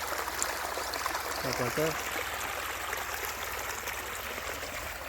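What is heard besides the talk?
water from pump motor flowing over cluster beans in basket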